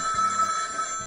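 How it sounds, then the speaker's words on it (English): Telephone ringing with a bright, steady electronic trill, one short burst heard alone and close. "Answer the phone, Donald."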